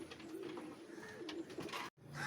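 A male pigeon coos softly in low, rolling phrases, close by, with faint background noise and a brief cut near the end.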